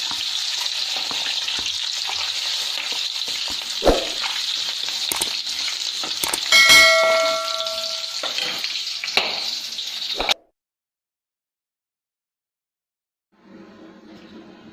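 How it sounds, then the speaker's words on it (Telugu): Mustard seeds and cumin sizzle and splutter in hot oil while cooking egg pulusu, with a steady close hiss and scattered pops and crackles. The sound cuts off abruptly into silence, then faint sizzling returns near the end. "ఆవాల జీలకర్ర చిప్పట్లు ఆడించాక పచ్చిమిర్చి వేసుకోండి"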